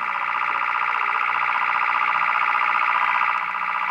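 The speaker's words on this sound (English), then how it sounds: "The alarm went off early yesterday morning after Pepco finished some work there, and it has not stopped ringing." A house burglar alarm rings loudly and continuously, a steady pulsing electronic tone that never pauses, close and alone with no talking.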